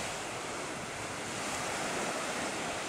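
Ocean waves roll onto Playa Cristal beach in Tayrona Park, a continuous broad wash of surf with steady wind rush, no voices.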